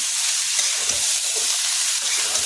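Fresh coriander being stirred into dum aloo in a pan, a close, continuous crackling sizzle with soft scraping from the stirring, no voices.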